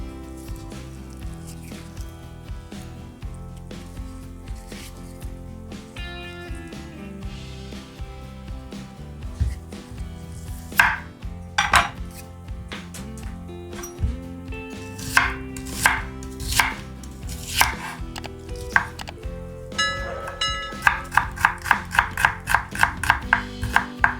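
Three onions are finely chopped with a knife on a board, for a minced-meat puff pastry börek. Knife strikes start sparse and grow into a fast, steady run of crisp chops near the end, set against a constant background hum.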